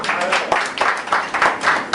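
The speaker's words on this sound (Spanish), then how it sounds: "Un aplauso para usted." An audience claps at a FIHNEC testimony gathering, producing a brief, rhythmic burst of applause that stays fairly close and moderately loud throughout.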